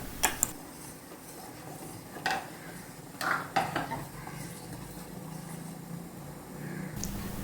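Chopped plantain tipped into a pot of boiling sago to cook, heard as a few sharp metallic clinks and scrapes of a utensil against the pot over a faint, steady bubbling simmer.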